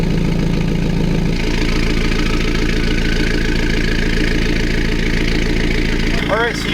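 A Mini with a Supersprint midpipe exhaust idles loudly and steadily close by, a deep rumbling drone throughout, with a voice talking over it near the end.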